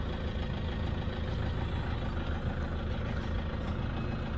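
Toyota Hilux Vigo Champ 2.5 diesel pickup, standard unremapped engine, revved while parked; a steady, loud, close engine drone holds throughout with no talk.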